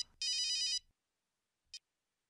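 A mobile phone ringtone, a bright electronic trill lasting about half a second, rings once clearly, then a short chirp follows after a pause, against near silence.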